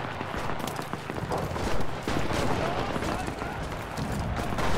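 Machine gun fire in the World War II shooter Enlisted during a Normandy beach defence: dense, continuous bursts of gunfire and battle noise fill the whole stretch, with a louder swell midway.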